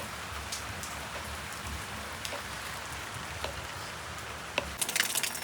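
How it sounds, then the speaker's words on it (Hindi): Heavy rain pours steadily outside during a rainy day in Rajasthan, a dense continuous hiss, while water drips from a leaking kitchen roof, with a few louder splashes close by near the end. "आप देख सकते हो कि कैसी बारिश हो रही है बाहर। यहाँ पर पानी टपक रहा है"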